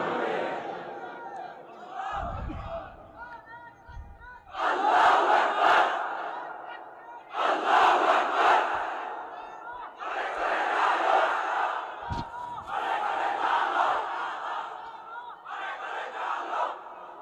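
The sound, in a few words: crowd shouting the takbir response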